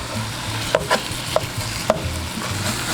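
Meat frying in an oiled pan for sweet potato chili cheese fries gives a steady low sizzle, with a few sharp clicks and scrapes from the utensil as the pieces are flipped.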